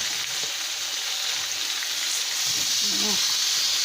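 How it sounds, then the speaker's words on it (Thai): Shallots and pork sizzle and crackle steadily in a hot pan while vegetables are stir-fried, a continuous near hiss with a brief scrape near the end. "ผัดให้หอมนะคะ เอาหอมแดงบกลงไปอีกหน่อย"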